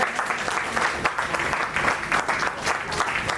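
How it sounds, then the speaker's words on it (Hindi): A crowd at a felicitation ceremony keeps clapping, an uneven, continuous patter of many hands with small swells, heard from within the room. "आप लोग ताली बजाते रहें।"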